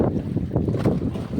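Gusty cold wind roaring loudly and steadily across the microphone out on the water during night fishing, with no voices.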